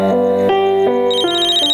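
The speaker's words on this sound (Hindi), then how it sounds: "आ गया उसका फोन" A phone ringtone for an incoming call, a loud, clear electronic melody of stepped tones ringing alone and close with no voices.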